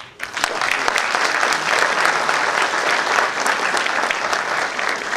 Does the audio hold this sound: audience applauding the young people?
yes